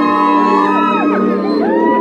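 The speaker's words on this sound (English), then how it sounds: "Ladies scream." Women in a crowd at a beach party with a live dancehall set scream and whoop together, loud, high sliding shrieks rising over continuous music throughout.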